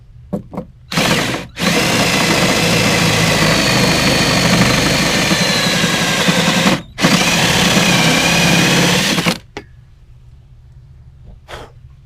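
Power tool cutting into cored fiberglass on a boat hull during bilge pump installation, a loud, close, continuous whining grind in two long bursts separated by a short pause, with a few clicks before and after.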